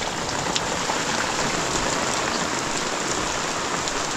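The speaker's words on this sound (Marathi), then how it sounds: "पण पाऊस पडतो आहे." Light summer rain falls in a continuous, even patter close by, a dense hiss with no voices or other sounds over it.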